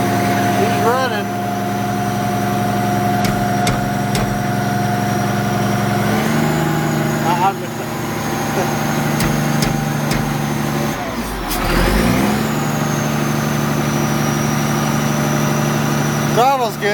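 Old abandoned Case 4490 tractor engine running and idling nearby, a steady loud diesel drone that shifts pitch a couple of times, with people talking over it.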